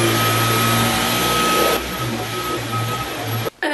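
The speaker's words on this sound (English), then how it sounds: "So now I'm going to hoover the floor." A vacuum cleaner hoovers the floor indoors with a loud, steady motor roar up close, its tone dropping slightly partway through before it briefly cuts out near the end.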